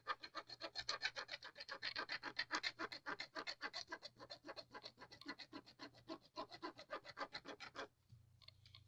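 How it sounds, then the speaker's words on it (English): Rubbing over a textured Halloween journal cover, a close, quiet rhythmic scratching in quick back-and-forth strokes that keep going without a break before stopping near the end. "Can you hear it rubbing?"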